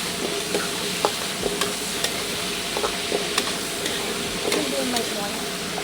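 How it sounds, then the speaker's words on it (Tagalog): Potatoes frying in a pan, a steady sizzle with scattered clicks and stirring taps running throughout at a moderate, close level. "Pirito muna natin ng konti yung patatas."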